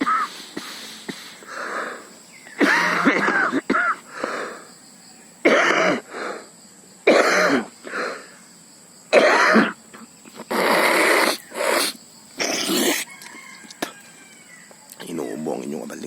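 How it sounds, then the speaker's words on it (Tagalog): A man coughs in repeated short, harsh bursts outdoors during a bird hunt. Brief talk and a rooster-like crow are mixed in between the coughs. "Inuubo ang inyong abalingkod, kaya malayo kami."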